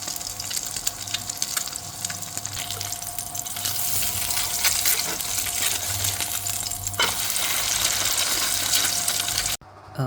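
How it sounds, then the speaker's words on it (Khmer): Duck eggs fry in a pan of oil for a Khmer dish, giving a steady, close sizzle with crackling spatter throughout, cutting out abruptly just before the end. "ជាដំបូងយើងចៀនពងទាមក"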